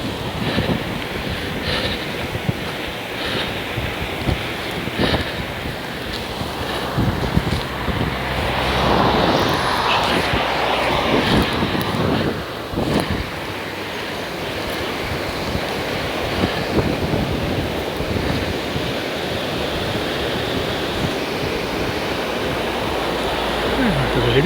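The river Adour at Aire-sur-l'Adour running high after several days of rain: a continuous rushing water roar mixed with gusty wind buffeting the microphone, with someone speaking intermittently over it.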